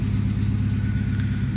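A 1996 Ford Mustang GT with a 351 Windsor V8 idles after a cold start, giving a steady, close, loud low rumble with an even pulsing beat and no voices.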